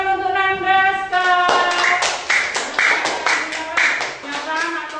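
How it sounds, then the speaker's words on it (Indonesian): A fifth-grade primary school class claps for a classmate in a rhythmic, patterned burst of hand claps, with children's voices chanting along in sung tones at the start and between the beats. "Tepuk tangan untuk Nanda Aska."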